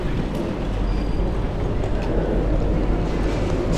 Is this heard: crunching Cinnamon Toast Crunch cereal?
no